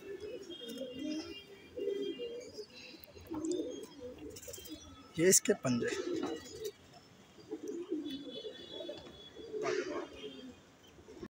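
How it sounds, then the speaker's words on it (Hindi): Madrasi pigeons coo and chirp in soft, repeated calls at close range while someone talks over them almost throughout. "ये मद्रासी कबूतर पीली डोरों में, और ये इसके साथ सफ़ेद जीरी लगा रखी है"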